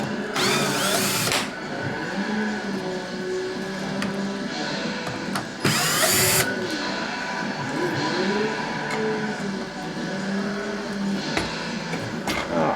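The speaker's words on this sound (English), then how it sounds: "These here are held in with some screws. So let's pull those out first." A power drill backs screws out of an arcade cabinet in two loud whirring bursts with handling clatter between them, and a faint voice talks under the steady background hum.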